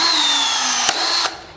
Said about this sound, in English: It's delivered the rivet already, reverse the drill, and the pin spits out.